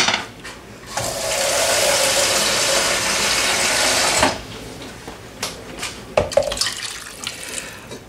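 Water gushes steadily from a tap for a few seconds, then cuts off, followed by a few light clinks and knocks of a pot.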